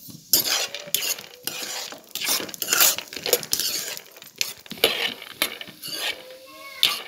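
Peanuts roasting in a pan, stirred with a metal spoon: repeated scraping and clinking strokes over a soft sizzle, close and fairly loud, with no talking.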